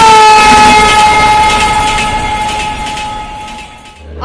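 An Agartala–Kolkata Garib Rath train standing at a railway station platform sounds a loud, sustained tonal horn that slowly fades over a few seconds, with no talk.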